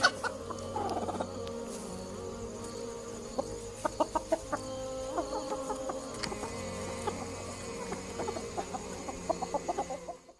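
Chickens clucking in short, scattered bursts over a low steady background, moderately close, with no talking.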